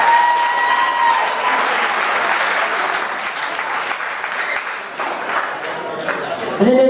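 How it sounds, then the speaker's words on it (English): Sustained crowd applause at a boxing tournament after a bantamweight bout, filling the hall with steady dense clapping and a murmur of cheers as both fighters await the judges' decision; a voice briefly rises near the end. "Let's give both these boxers one more big round of applause"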